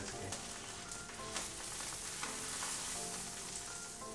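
Seitan sizzling and frying in hot fat for a vegan Christmas roast, a steady dense crackle with brief spikes as it is turned and dipped, no talk.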